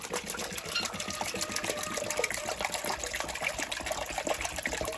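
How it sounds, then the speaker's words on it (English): Water gushes and splashes steadily while a partly frozen farm waterer is rinsed out on a homestead in cold weather, a continuous dense rush with no talking. "So rinse this out."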